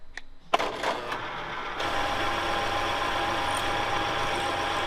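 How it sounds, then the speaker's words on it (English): Metal lathe with a parting-off tool cutting spacer material: a clunk and brief startup, then a steady motor whine and cutting hum that runs evenly to the end, close and moderate in level. "We're gonna use our parting off tool and lathe it."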